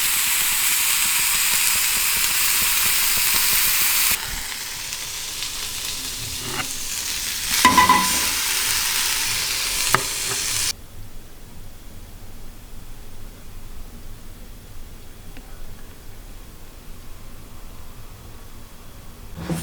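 Shrimp skewers sizzling on a grill, a loud steady hiss that drops to a quieter, softer crackle partway through, with a few faint clicks, close and without talk.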